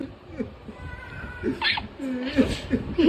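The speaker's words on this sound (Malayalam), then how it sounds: "കരയുന്ന കണ്ടോ പൂച്ച" Short, plaintive cat meows come in a few bursts alongside a person speaking nearby, fairly close and moderate in volume.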